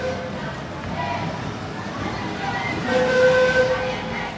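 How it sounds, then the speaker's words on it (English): The small tram of Soller rolls past in the port with passengers singing aboard, a close, brief mix of rumbling wheels, a squeal and bright voices lasting a few seconds. "There goes the little tram, as you can see there, all having a good old sing along on it."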